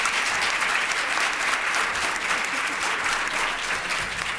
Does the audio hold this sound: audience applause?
yes